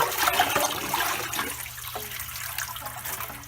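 Tap water runs and splashes into a sink while a 1998 Furby is rinsed, a steady broadband wash that thins partway through as the flow eases and drains, with no voices.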